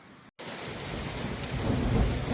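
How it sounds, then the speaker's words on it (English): Steady heavy rain pours outdoors at a lakehouse deck build site, a dense continuous hiss that swells slightly louder toward the end, with no voices. "It's pouring out."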